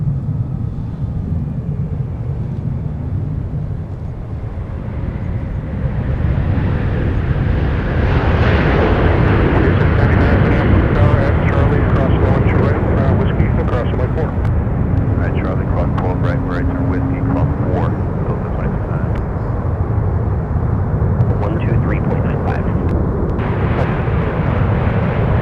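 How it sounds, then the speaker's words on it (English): Delta airliner landing at MSP airport, a broad steady roar of jet engines that swells and holds loud across the approach and touchdown, with a faint voice in the background. "let's take another look at Delta 9 gliding down with a smooth touchdown"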